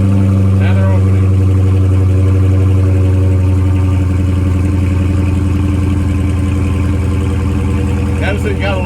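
A Dodge Charger Hellcat with a Borla ATAK exhaust idles with its valves opening, a loud, steady, deep rumble that swells slightly louder partway through.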